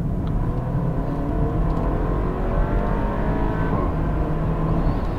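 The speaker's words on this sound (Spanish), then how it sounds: "cuando acelera suena de locura, y además cuando cambia de marcha petardea un poquito" A Porsche Macan accelerates hard while overtaking, its engine a loud, steady roar with rising tone, heard from inside or close by with no talking.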